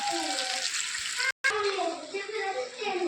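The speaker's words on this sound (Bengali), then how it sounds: "কষা হয়ে গেছে, তেল ছেড়ে দিয়েছে, জল দিয়ে দেবো।" Water pours into a pot of cooking chicken curry as a steady rushing splash that swells near the start, broken by a brief silence, with a voice speaking over it.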